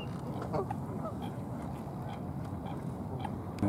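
Teal ducks quack repeatedly outdoors at a riparian preserve, scattered calls over a steady background rumble, fairly close and moderately loud.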